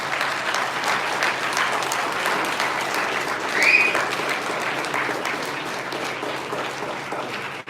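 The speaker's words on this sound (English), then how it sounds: "You got to give one more round of applause for those three awesome people that came up" Sustained audience applause fills the room after three people come up at an event, a steady dense clapping that holds loud throughout with a brief swell midway and a few voices mixed in.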